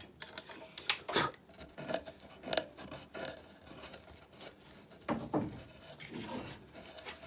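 A wooden tenon slid into a hidden mortise on a handmade wardrobe, a series of close, dry scraping and rubbing strokes with a few light knocks, in uneven bursts.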